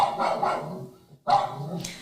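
A single dog barks in a few close, loud bursts, with a brief pause in the middle, mixed with voices.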